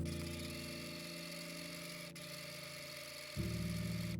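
Sewing machine stitching bodice seams, a steady low motor hum with rapid needle rhythm that steps up louder near the end, no voices.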